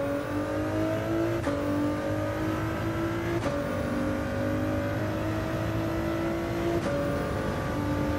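A Ford GT engine in a racing video game holds a steady, loud drone and rises through the revs, with abrupt drops at each gear shift about every two seconds.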